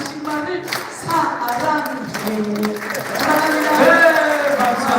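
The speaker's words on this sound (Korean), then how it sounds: "다시 한번 뜨거운 박수 보내주시기 바라겠습니다" Audience applause at a church concert at a local arts festival, a burst of clapping mixed with voices and a crowd murmur that grows a bit louder toward the end.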